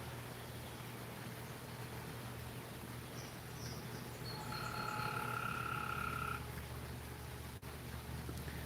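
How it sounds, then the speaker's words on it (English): Several short, clear tonal chirps and croaks from what seems to be a frog ring out over a steady hum of background noise, rising midway through and then fading. "That sounded like a fancy frog."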